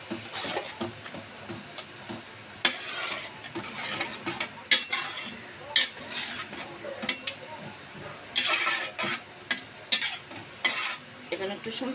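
Boiled mung dal poured into a pot and stirred while cooking with rui fish heads, giving repeated close scraping and clinking of a utensil against the pot with a soft sizzle beneath, in uneven bursts and no speech.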